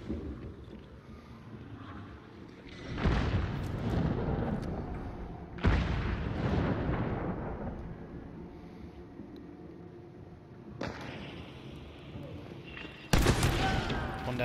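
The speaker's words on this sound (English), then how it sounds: "Throwing bombs." Bombs go off in the video game Showdown: several heavy, rumbling blasts a few seconds apart, each followed by a long decaying roar, over steady low background noise.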